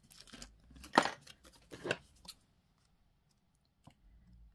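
Scissors cutting a paper craft piece to size for a frame: a few quiet snips and clicks in a loose rhythm, then near silence.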